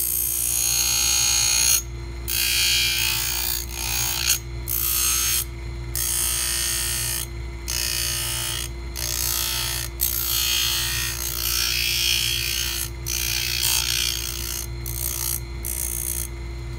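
A rotary wheel trims an acrylic partial denture in a dental lab, giving a loud, continuous high-pitched grinding whine over a steady motor hum, broken by repeated short pauses as the piece is lifted away and pressed back.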